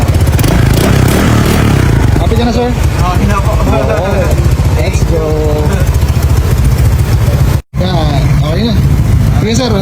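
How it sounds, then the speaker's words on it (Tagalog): A 2015 Honda PCX scooter engine idles and runs with a steady low rumble close by, while several people talk over it. "Sinaandar na yung PCX."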